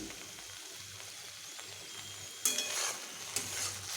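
Okra and chopped green chillies stirred and frying in a pan, a soft steady sizzle with a few sharper scraping bursts from the stirring utensil partway through, close and alone without speech.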